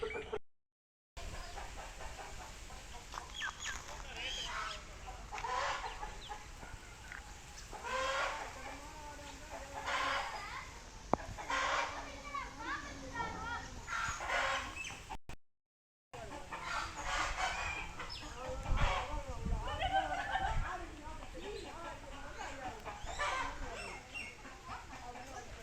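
Chickens clucking on a farm near the henhouse, a busy chorus of clucks and cackles mixed with occasional crowing, fairly faint, with two brief dropouts.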